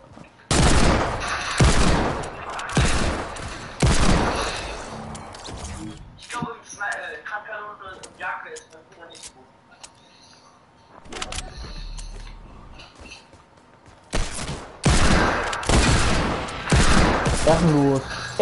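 Video game gunfire comes in repeated loud bursts of rapid shots, broken by a quieter middle stretch with mechanical clicks and rattles, then resuming heavily near the end; voices are heard between the volleys.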